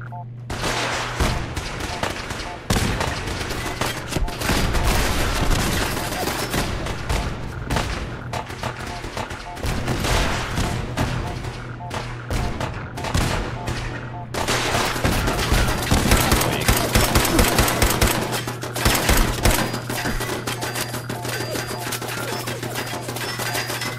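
Sustained heavy gunfire in Fallout 4, dense bursts and rapid volleys filling the whole stretch, loud and close with a steady low hum beneath and no pauses.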